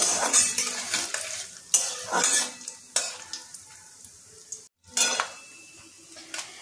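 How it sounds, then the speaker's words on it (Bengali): Chopped coconut sizzles in a pan with cumin and dried chilli over a low gas flame while a spatula scrapes and stirs in irregular strokes, each scrape rising above the steady close frying hiss. "গ্যাসের ফ্লেমটা একটু আস্তে করে নারকেলগুলোকে ভাজতে দিতে হবে।"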